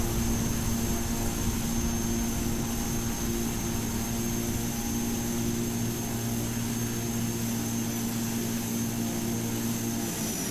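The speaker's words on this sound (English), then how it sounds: "Now, prepare for thrust reversers." A de Havilland Canada DHC-6 Twin Otter in the GeoFS flight simulator roars steadily with thrust reversers engaged, a loud constant engine drone with a sustained tonal hum and no voices.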